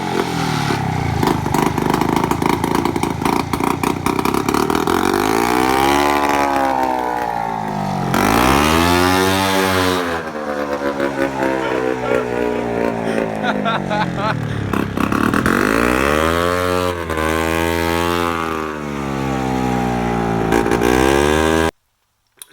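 A homemade buggy engine drives close by and loud, revving and rising in pitch again and again as it accelerates and eases off, with rough clattering throughout.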